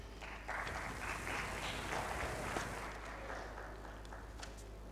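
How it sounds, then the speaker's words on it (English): A conference audience claps for the panelists at an investments event, a sustained, evenly spread patter of many hands that swells slightly and then eases, heard from across a large room. "if I can request a big loud clap for my panelists"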